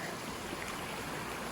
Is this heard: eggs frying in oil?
no